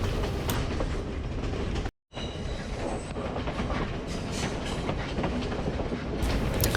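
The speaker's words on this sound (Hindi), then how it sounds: "ट्रेन थोड़ी देर रुक के चल पड़ी है" Train pulling away from a small hill-country station in Sri Lanka, a loud continuous rumble with rhythmic wheel clatter and brief metallic squeals, heard close from on board with a momentary dropout.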